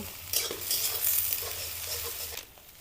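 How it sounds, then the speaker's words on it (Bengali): Scrambled egg with onion frying in a pan, broken up into crumbly bits, gives a bright, close sizzle with repeated stirring scrapes that fades quickly near the end. "ডিমটাকে ঝুরো ঝুরো করে ভেজে নেব"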